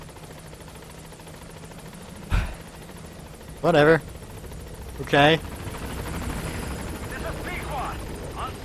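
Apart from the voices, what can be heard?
helicopter arriving in the video game Metal Gear Solid V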